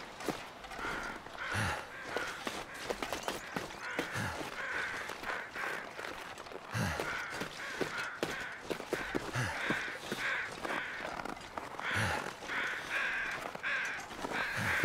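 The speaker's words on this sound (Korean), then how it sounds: "어디서 이렇게 자꾸 까마귀 소리가 들려?" Crows caw again and again in a video game, harsh calls coming in repeated bursts across the scene, some near and some farther off, with faint footstep-like clicks beneath and no talking.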